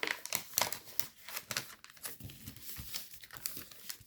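Paper being folded into an origami fighter jet: close, irregular crinkling and crisp creasing rustles in quick bursts, with soft sliding between sharper crackles.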